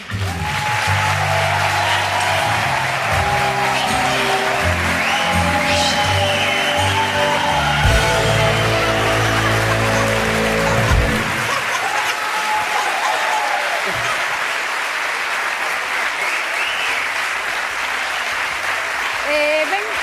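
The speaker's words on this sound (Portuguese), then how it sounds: "Un aplauso para Manuel." A television studio audience applauds steadily for a guest named Manuel on a Galician afternoon programme, the clapping running continuously over loud backing music that drops away about halfway, leaving the applause to carry on alone.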